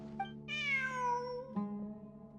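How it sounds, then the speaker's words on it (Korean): A cat in the video game Genshin Impact gives a single clear, drawn-out meow with a rising then falling pitch, heard alone over steady soft background music tones. "저기 봐. 고양이야."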